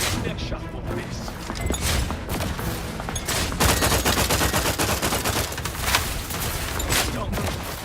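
Heavy, dense gunfire in the sci-fi game The Outer Worlds 2, loud close volleys of shots layered over each other, with a voice speaking at times amid the shooting.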